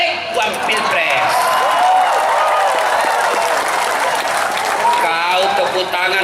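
Applause from a crowd at an Islamic study gathering during a humorous sermon, dense and steady clapping throughout with a voice speaking over it near the end.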